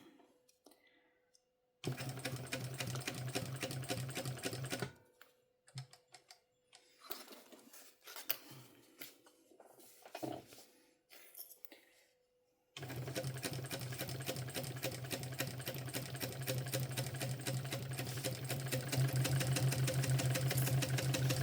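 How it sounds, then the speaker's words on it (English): A home sewing machine stitches through two layers of a small backpack in long steady bursts, getting louder and faster as pressure on the foot pedal rises, with a quiet pause and scattered handling sounds between runs. "Trying to get braver and speed up the machine"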